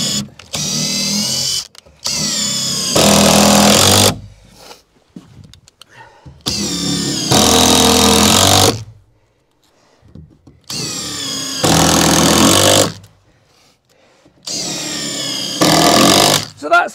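Screws are driven into a timber wall frame for a garden room. Several loud, whirring bursts of a power driver last about two seconds each, separated by short pauses.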